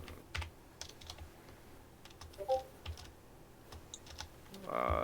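Quick clicks from a computer keyboard come in uneven bursts against a quiet room, with a louder noise at the very end.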